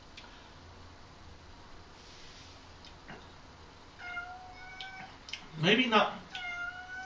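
A cat meows indoors during a sour beer tasting, with several clear rising and falling cries near the end, close and fairly loud, while a voice talks over it.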